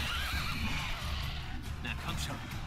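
A horse in the video game The Witcher 3 neighs loudly with a wavering whinny, up close, over game background sound, followed by fainter game noises.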